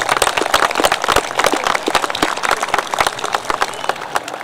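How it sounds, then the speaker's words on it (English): A graduation audience in a large hall claps steadily for parents and teachers, a dense, continuous patter of many hands close and loud without letting up. "Can we give them a round of applause for all of their work and sacrifice?"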